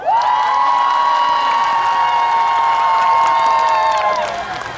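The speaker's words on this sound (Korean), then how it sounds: "박수와 환호성이 필요합니다" At the Muju Firefly Festival opening ceremony concert, a large crowd lets out a sustained unison cheer with applause, loud and continuous for nearly five seconds before tapering off.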